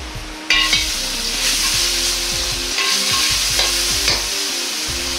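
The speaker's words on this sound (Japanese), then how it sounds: "鍋を温めて大さじ1の油を入れ生姜のみじん切りと豆板醤を少量ずつ入れて炒めます" Loud, steady sizzling of minced ginger and chili bean paste stir-frying in hot oil in a wok, with the scrape and clatter of a utensil moving through the pan.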